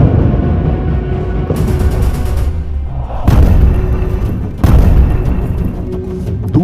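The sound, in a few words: bombing explosions in Gaza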